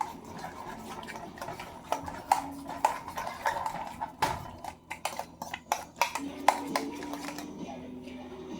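Utensil clinking and scraping against a bowl while seasoned nacho ingredients are stirred together, repeated irregular taps close by, with some talking over the clatter.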